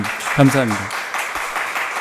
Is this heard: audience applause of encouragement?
yes